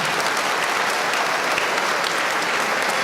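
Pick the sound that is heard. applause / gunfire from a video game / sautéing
applause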